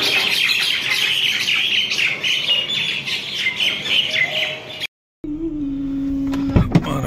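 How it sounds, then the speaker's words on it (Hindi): Birds chirp and tweet continuously outdoors, a dense bright chorus fairly close, before it cuts off abruptly and gives way to a low hum with a couple of sharp knocks. "परिंदे बैठे हैं चहचहा रहे हैं, खुशी मना रहे हैं।"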